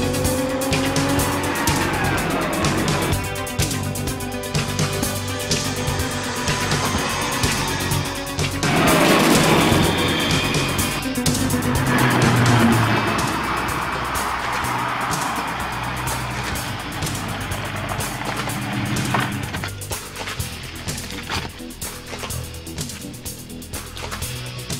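A car driving off from a base in a TV action drama, engine revving and tires squealing and skidding, loud and close, with music playing throughout.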